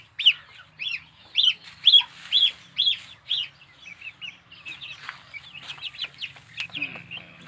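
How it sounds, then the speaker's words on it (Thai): Brahma and bantam chickens cluck and chirp close by in a quick series of short calls, loudest early on, then a looser scatter of softer clucks. "ไก่ยักษ์บาม่ากับไก่พันไข่เลือดนอกนะครับ"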